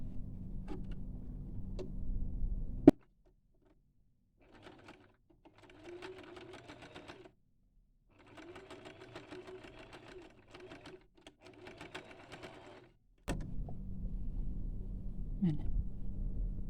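A sewing machine stitching patchwork fabric runs in several short bursts of rapid, even stitching, fairly quiet and close, separated by brief pauses, with louder handling noise before and after.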